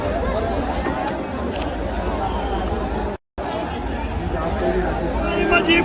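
Crowd of devotees gathered at the Ekvira temple on Karla hill during a palkhi procession, a steady dense hubbub of many voices chattering outdoors, loud and continuous with a brief cut partway through.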